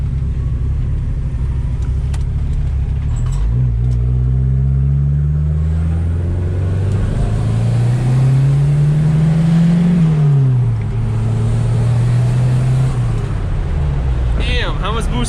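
A turbocharged Ford Mustang SVO with a refreshed rear suspension drives along a road. Its engine rumbles loudly and climbs through long revving pulls, easing and rising again, with faint cabin noise throughout.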